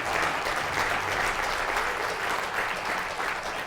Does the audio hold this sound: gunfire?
no